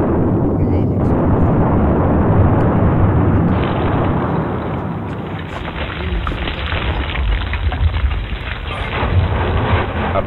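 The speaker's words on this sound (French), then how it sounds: "c'est le volcan de la montagne Sainte-Hélène. Donc, vous allez voir, quelle est l'explosion." The 1980 Mount St. Helens volcanic eruption sounds as a loud, sustained, deep roaring rumble that surges and swells for about ten seconds, with a muffled, band-limited quality throughout.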